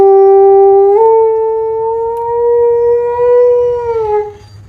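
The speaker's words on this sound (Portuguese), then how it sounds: "Cachorro chorando." A dog howls and cries in one long, loud, sustained wail that rises slightly and holds steady before trailing off, close and alone with no talk.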